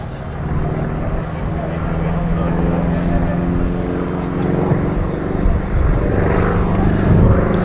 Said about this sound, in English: as the P-38 manoeuvres to land, taking centre stage again